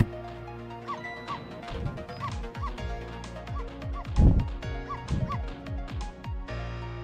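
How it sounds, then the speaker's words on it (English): A pet dog barks and yips repeatedly in short bursts against a busy background of music and game sounds, with one louder thump or crash partway through. "No, Missile, you're not supposed to bark."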